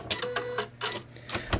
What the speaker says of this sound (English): I'm just going to back tack a couple stitches.